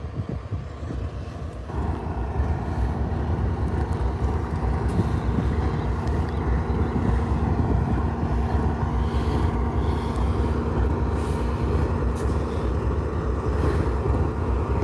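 A railroad locomotive stands at a red signal outside a yard, its diesel engine growling with a deep, steady rumble mixed with wind noise, loud and continuous throughout.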